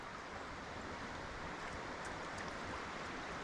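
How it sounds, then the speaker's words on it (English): Kenai River in Alaska running over rocks at a salmon fishing spot, a steady broadband rush of flowing water heard close and continuous with no talk. "I can hear the water going over the rocks"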